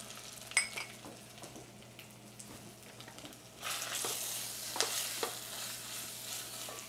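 Cumin, coriander powder and tomato paste hit a hot pan: quiet stirring clinks and scrapes give way midway to a louder, bright sizzle that carries on with occasional utensil taps.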